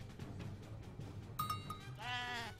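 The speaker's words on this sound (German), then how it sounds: "Jetzt habe ich Schafe bekommen." Sheep bleat in the strategy game Age of Empires III, a few short bleating calls rising over a low rumble of in-game ambience, one longer wavering bleat near the end.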